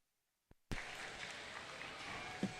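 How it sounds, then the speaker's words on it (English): Audience applause in the ring at a breeding sheep show at the Indiana State Fair, a steady dense clatter of many hands that starts abruptly after a brief silence and holds at even loudness. "Let's give him a big round of applause."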